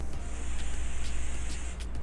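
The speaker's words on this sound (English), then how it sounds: "Now this hairspray is really like hard, so let's just spray." Hairspray hisses from a can onto hair being styled into a twisted bun, a steady close spray with faint pulsing bursts and no talk.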